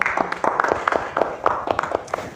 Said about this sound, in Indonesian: Tepuk tangan dong untuk panitia PITO tahun ini.